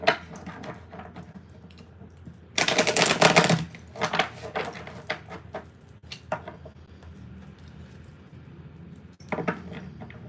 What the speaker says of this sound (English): Let's give it a couple of more shuffles, okay?